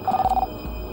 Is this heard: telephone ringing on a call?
yes